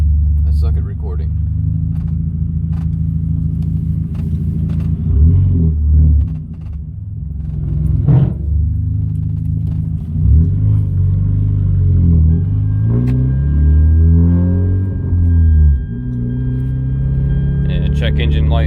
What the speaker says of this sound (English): I'm going to do a pull with how my blow off valve sounds now